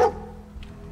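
Single short dog bark from Dogmeat in the video game Fallout 4, a close, sharp yelp at the start followed by quiet game ambience.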